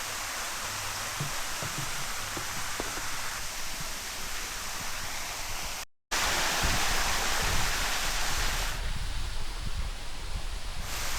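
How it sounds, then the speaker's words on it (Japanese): Small waterfall in a Japanese shrine garden near Izumo Taisha, a steady broadband rush of falling water that fills the scene continuously and evenly, with a brief dropout midway and no voices. "水の音に包まれながら"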